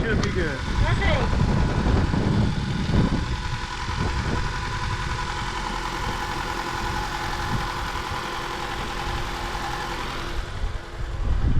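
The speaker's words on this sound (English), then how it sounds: "Now we just leave the vehicle running for a little bit." A 2013 Honda Accord engine idles steadily with a newly replaced alternator, a low continuous hum running unbroken for several seconds, with faint background noise and some handling sounds at the start.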